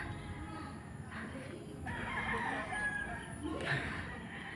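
A rooster crows over steady outdoor background noise at a chicken farm in Bulacan, with hens clucking intermittently around it; the calls are moderately loud and fairly close.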